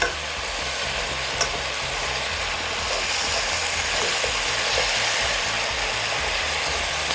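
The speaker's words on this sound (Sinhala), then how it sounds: "ඒ ටික ඔක්කොම එකතු කරගත්තට පස්සේ පොඩ්ඩක් කලවම් කරගමු" Crab curry ingredients are stirred together in a hot pan, a steady sizzle and hiss with faint scraping and an occasional click of the utensil against the pan.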